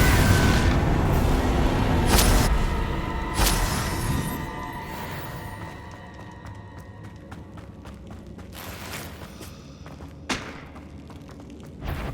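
In Hogwarts Legacy, Confringo explosive spell blasts land as a few sharp booming thuds over rumbling combat noise, loud at first and then fading into quieter ringing tails with a small late hit.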